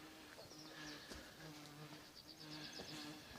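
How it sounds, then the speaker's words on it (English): Black flies buzz close around a hiker's head at a shelter pond on Vermont's Long Trail, faint whining drones swelling and fading, with frogs croaking softly in the background. "And there are definitely black flies flying around my head"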